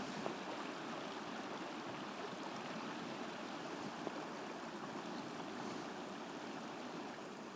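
A mountain river in Jotunheimen National Park rushes continuously, a steady broadband roar of flowing water with no voices.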